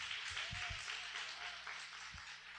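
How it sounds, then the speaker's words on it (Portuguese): A church congregation claps steadily in a dense wash of applause lasting a few seconds, with a few louder low thumps mixed in. "Aplauda bem forte ao Senhor."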